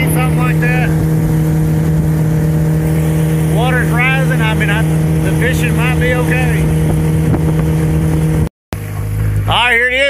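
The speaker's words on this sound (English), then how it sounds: "the motor is running like pure poop" An outboard boat motor on a river, running poorly, drones steadily at a constant pitch throughout, with a person talking over it and a brief cut near the end.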